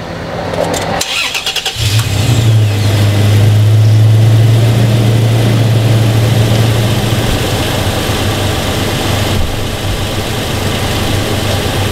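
A car engine cranks and catches, then settles into a loud, steady, close idle with a deep continuous hum that runs to the end.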